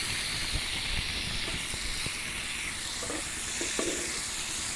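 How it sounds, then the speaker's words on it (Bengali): Boiled vegetable stalks frying for Bengali chorchori give a steady, fairly loud sizzle that fills the whole stretch, with small stirring knocks scattered through it and no voice. "এখন আমি একটু ফ্রাই করে নেব।"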